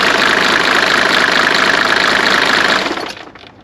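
A Mercedes-Benz W124 300D diesel engine runs steadily with a clattery, knocking idle close by, then cuts off and dies away near the end.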